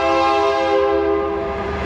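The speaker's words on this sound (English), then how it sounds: "Excuse the train." A passing train sounds a loud, sustained horn close by, one continuous blast steady for the whole moment with no other sound over it.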